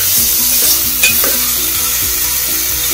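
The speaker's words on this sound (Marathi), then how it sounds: "चांगले या तेलामध्ये कांद्यामध्ये ना परतवून घ्यायची" Mustard seeds and onions sauté in hot oil in a pot, giving a loud, close, steady sizzle and crackle with no talking.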